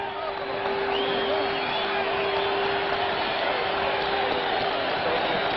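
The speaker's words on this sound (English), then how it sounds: "Crowd cheering the conclusion." Boxing arena crowd cheering at the final bell of a heavyweight fight between Floyd Patterson and Jerry Quarry, a loud, steady roar of many voices that holds for the whole stretch, with a thin, old broadcast-style tone.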